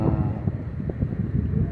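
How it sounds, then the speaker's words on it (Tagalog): Wind buffeting a microphone outdoors at the seaside, a low rumbling roar with gusty swells throughout, loud and close. "medyo malamig ang simoy ng hangin"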